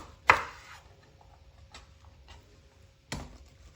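A knife chops through a halved bell pepper on a cutting board, two sharp, close thuds roughly three seconds apart with faint handling sounds between them.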